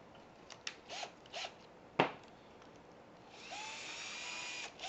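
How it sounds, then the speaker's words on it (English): A 5/64 drill bit bores a string hole in a cigar box guitar: short whirring bursts and a sharp click, then a steady high-pitched drilling whine near the end, close and fairly quiet. "So it looks like this 5/64 drill bit will work just fine."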